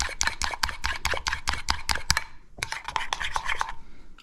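A frosting-style mix of half a cup of flour and a teaspoon of sugar is beaten by hand, giving a fast, steady run of close scraping and tapping strokes with a short pause partway through.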